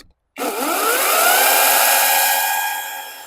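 A Grosser GCS 160 40V cordless chainsaw starts after brief silence and spins up at first speed, its motor whine rising quickly in pitch and then holding a steady, loud, close hum.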